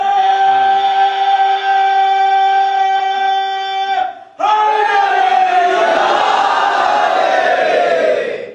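A crowd gathered at a Shia majlis mourning gathering shouts a religious slogan in unison, loud and sustained, with a sharp break partway through before a swelling roar of many voices follows.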